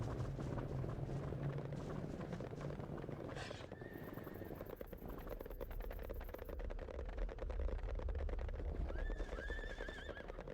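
Horse in the Sacred Gold video game gives a couple of whinnies over a steady rhythmic clip-clop of hooves that continues throughout, without talk.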